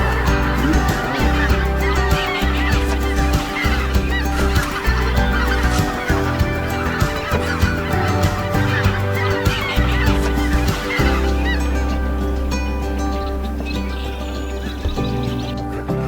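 A large flock of geese honks continuously in a dense, loud chorus at a winter wetlands wildlife area, the calls overlapping and never pausing.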